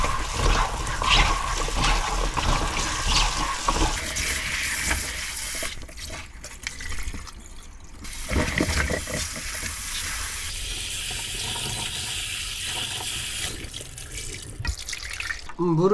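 Peeled potatoes are rinsed under a running kitchen tap, water splashing and trickling steadily into a sink with occasional drips and clatter, while people talk nearby.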